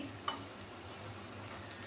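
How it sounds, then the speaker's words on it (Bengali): Small prawn fritters fry in hot oil with a faint, steady sizzle throughout, broken once early by a single sharp tick. "বড়াগুলো বেশ একটু লাল লাল হয়ে ভাজা হয়ে যাচ্ছে"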